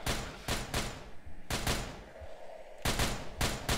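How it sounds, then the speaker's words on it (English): Bursts of gunfire from the SCP Containment Breach video game, with loud clustered volleys separated by brief gaps and fading reverberant tails, with no talk over them. "You can stop shooting me."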